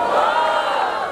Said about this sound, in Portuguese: barulho que gostou das rimas do Apolo?